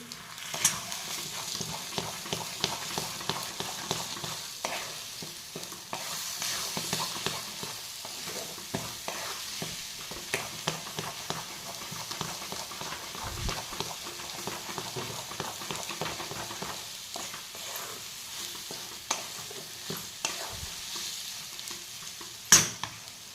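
Egg bhurji frying in a pan with salt and coriander mixed in, giving a steady sizzle broken by repeated scraping and stirring strokes, close and continuous with no talk.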